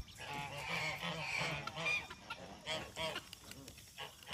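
A goose on a muddy farm honks close by in a run of nasal, rapid calls, loud at first and then broken into shorter bursts.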